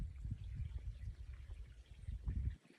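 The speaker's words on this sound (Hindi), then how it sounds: "एक सेकंड में शांत रहिए, पानी की आवाज आएगी" Water runs in a stream down in a ravine below, a steady soft rush at a distance, with a low rumbling texture that carries on throughout and then cuts off abruptly near the end.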